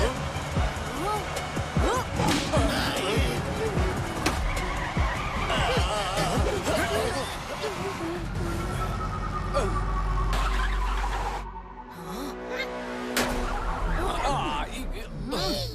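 A cartoon jeep is driven hard in a chase fleeing police, its tyres skidding and squealing through a busy mix of engine noise, effects and voices, with a long slide near the middle.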